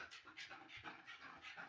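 A dog pants in quick, regular breaths, each a short airy burst at a steady rhythm, close and clear with no talking over it.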